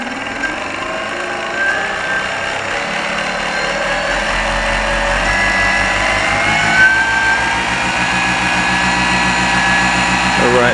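A small RC model engine runs on a desktop dynamometer as the throttle opens, giving a steady, loud mechanical drone with a high whine that rises gradually. Someone talks over it.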